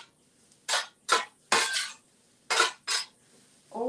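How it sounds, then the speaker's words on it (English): Sliced shiitake mushrooms stirred in a pan over medium-high heat, heard as five or six separate scraping clinks of a utensil against the pan, each short and fairly close, with quiet gaps between them. "in go the sliced shiitakes. And we're going to stir that"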